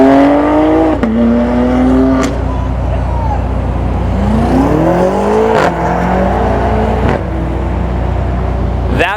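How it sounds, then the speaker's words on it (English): BMW M3s, one red, rev their engines as they pull away from a busy car meet, loud rising and falling engine sweeps with sharp throttle blips, while someone talks over them. "Looks like we got some BMWs leaving the meet. I see an M3, I think, right there in red."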